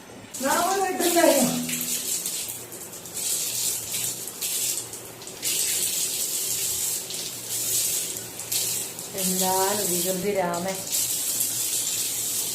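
Water pours and splashes steadily over a child's head during a bath, while a young voice wails briefly at the start and again near the end.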